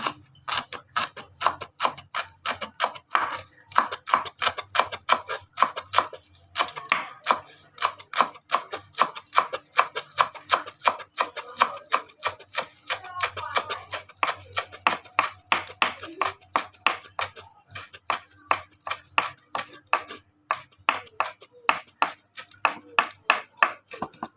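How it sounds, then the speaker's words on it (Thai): Steady, rapid knife chops on a cutting board as shallots and coriander are cut, a quick rhythmic tapping that continues with brief pauses throughout. "เราก็จะมาเตรียมหั่นหอมผักชีรอนะคะ"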